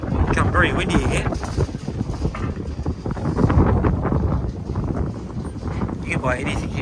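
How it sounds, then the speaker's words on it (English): Wind gusts buffet the microphone at an outdoor market in Mukdahan, Thailand, loud rumbling bursts running throughout while people speak. "Moving along here, it's become very windy again."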